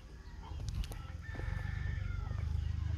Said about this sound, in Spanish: Se quedaron unos pollos encerrados adentro.